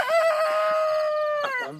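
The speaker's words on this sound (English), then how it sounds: "the roosters and the chickens and the garden." A rooster crows once, loud and close, a long sustained call that rises and trails off with a final break at the end.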